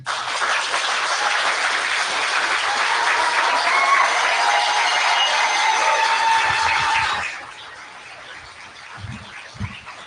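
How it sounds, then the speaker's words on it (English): Loud, sustained audience applause fills a hotel ballroom event as a guest speaker is introduced, holding steady for about seven seconds before fading to a faint murmur with a few low thumps. "I'm going to take this moment to ask you to give a hard applause"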